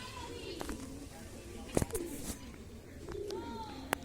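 Pigeons being fed close by give soft, repeated throaty coos in short rolling phrases, with a few sharper clicks and flutters between them, under a quiet background.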